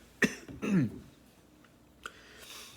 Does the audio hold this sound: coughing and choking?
yes